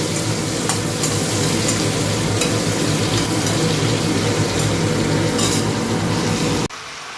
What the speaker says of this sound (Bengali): তো চিংড়ি ভেজে আর তরকারিটা করে নিই, পুঁই শাকের কুমড়োর তরকারি।